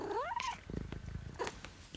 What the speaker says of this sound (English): I've got a couple of cats behind me.